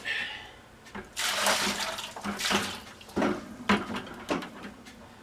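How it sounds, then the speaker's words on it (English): Water is dumped out of a reptile's water bowl in a bathroom, coming as several splashy gushes and pours close by, separated by short pauses, with a light knock at the start. "dump our water bowl out"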